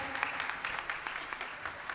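Audience applause at a Gujarati light-music concert honouring a school's pupils and performers, a dense spread of clapping heard from within the hall, fairly even and moderately loud.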